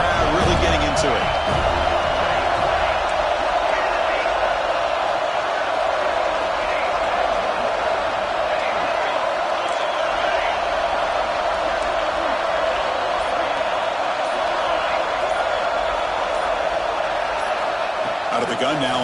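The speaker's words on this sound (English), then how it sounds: "Third down and the crowd really getting into it." A high school football crowd roars steadily on third down, with dense continuous cheering and shouting filling the stadium for the whole stretch while a commentator talks over it.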